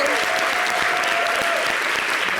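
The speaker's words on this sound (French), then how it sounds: "Applaudissez pour elle." An audience at a televised talk-show interview bursts into dense, steady applause, loud and close, filling the whole moment without a break.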